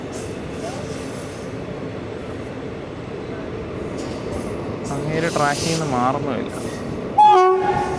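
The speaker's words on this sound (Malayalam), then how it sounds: "അപ്പോൾ ഇപ്പോൾ ഒരു ഹോണടി കേൾക്കാം." On the Thiruvananthapuram–Nagercoil line near Parassala, where track-doubling work is underway, a train sounds its horn in two close blasts over rumbling wheels, with someone talking nearby.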